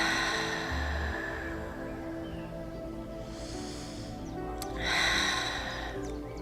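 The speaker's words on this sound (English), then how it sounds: "Exhale to your maximum." A slow, deep yoga exhale in an outdoor park session, a long airy breath that swells and fades, close to the microphone with faint outdoor ambience behind it.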